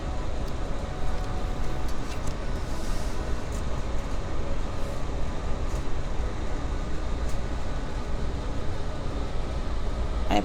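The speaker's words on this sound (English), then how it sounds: "We've got the air conditioner on." An air conditioner running in a room during a warm summer, giving a constant broadband whooshing hum that stays even throughout, with no voices.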